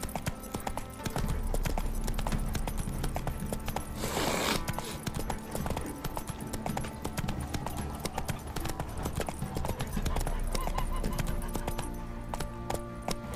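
A horse gallops in The Witcher 3 video game, a fast steady clip-clop of hooves running continuously at close range, with a brief whoosh midway and no speech.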